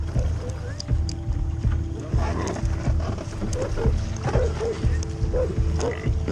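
A rescue boat's engine runs with a steady low drone under wind buffeting and splashing water, while people talk over it close by.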